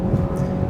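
Kia Optima Hybrid's 2-liter Smartstream gasoline engine in sport mode, accelerating: a steady low engine drone with a faint hum, heard continuously from inside the car with no talking.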